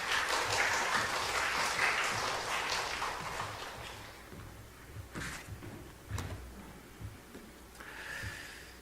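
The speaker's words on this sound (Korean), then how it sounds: "여러분 큰 박수로 맞이해 주시기 바랍니다" A church congregation applauding to welcome the speaker at a midweek Bible service, dense clapping that is loudest at first, then thins to scattered claps and small knocks and shuffles as it dies away.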